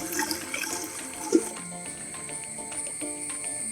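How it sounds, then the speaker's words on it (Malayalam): Water pours steadily into a cooking pot at an outdoor village cooking spot where teak-leaf chicken biryani is being made. A brief splash rises in the middle, and crickets chirp in the background throughout. "ഇതിന് നമുക്ക് വെള്ളം ഒഴിക്കാം."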